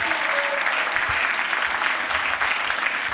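An audience at a school winter instrumental concert gives steady, moderately loud applause that holds evenly throughout.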